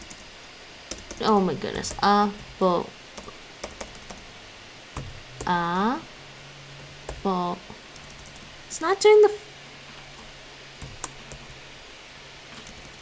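Someone types on a computer keyboard set for Korean input, making scattered bursts of clicking keystrokes between short stretches of speech.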